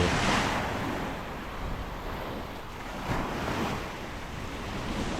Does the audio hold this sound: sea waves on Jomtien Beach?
yes